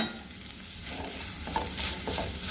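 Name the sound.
stirring Kashmiri red chilli powder and spices into beef chilli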